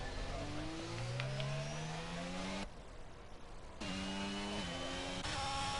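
Race car engines in F1 22 at the Canadian GP, revving hard through upshifts during an overtake, loud and close, with a brief quieter gap mid-way before the engine roars back.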